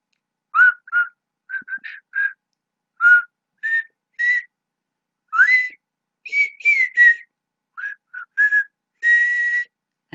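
A human voice whistles an imitation of a thrush's song: short, bright, separate phrases with rising and falling slides, some repeated in quick pairs, near and clear against silence.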